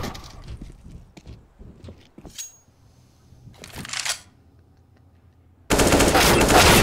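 Gunfire from the video game CS:GO, played on the map Nuke in a pro league match, comes as scattered shots and short bursts and then a loud, sustained burst of automatic fire near the end.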